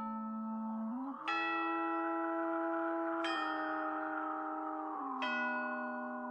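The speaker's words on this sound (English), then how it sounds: "Here is what my my doorbell sounds like." A custom doorbell chime plays three bright bell strikes about two seconds apart, each ringing out over a sustained, steady musical tone, close and clear with no talking.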